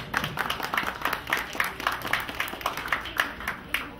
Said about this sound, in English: just another round of applause for all the volunteers